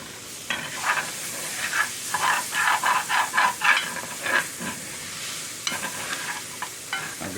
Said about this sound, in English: I want to cook it down and flavor that roux even more.